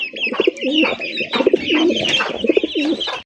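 Pigeons coo over and over in repeated warbling phrases, close and loud, with more birds calling in the background at a large pigeon farm.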